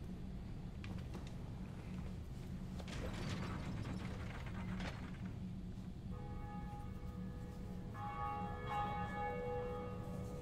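A large bell tolls in Dark Souls Remastered, joining a mechanical ratcheting and grinding. The clanging comes in late, sustained and ringing, over a low constant game ambience.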